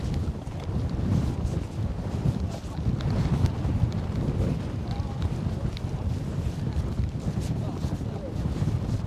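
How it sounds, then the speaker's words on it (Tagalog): Strong wind buffets the microphone at the shore in a steady, roaring low rumble that holds for several seconds with no clear break. "Ang lakas talaga ng hangin, grabe."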